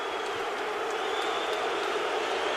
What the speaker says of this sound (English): This crowd is boisterous.